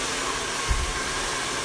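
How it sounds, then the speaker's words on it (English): A hair dryer blows steadily during hair styling, a constant close airy whoosh with a brief thump partway through. "You don't want your dryer down here blowing your hair everywhere"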